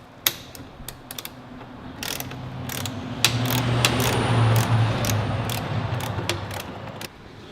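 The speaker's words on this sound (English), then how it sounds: "Probably be easier if I actually use the socket wrench." Socket wrench ratcheting on the front fork of a Segway X260 e-bike, a series of close, crisp clicking strokes in irregular bursts, with a brief mechanical hum in the middle.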